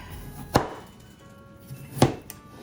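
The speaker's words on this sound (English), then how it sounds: "the object is to get diced bite-sized pieces. Kind of a coarse chop." A knife chops pears into coarse bite-sized pieces for spiced pear canning, giving two distinct sharp cuts against a board about a second and a half apart, close and clear, with a faint third tap and no talking.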